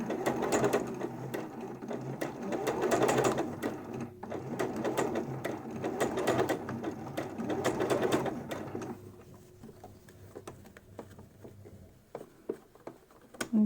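Sewing machine stitching a curved seam on a homemade fabric face mask, running in three bursts of rapid chattering stitches separated by short pauses, then stopping and leaving quiet handling clicks and rustles.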